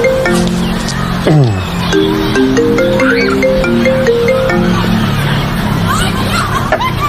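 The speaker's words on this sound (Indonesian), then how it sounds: "Ada telepon." A telephone rings with a repeating melodic tone over a busy room background, with murmuring voices and light chuckling around it.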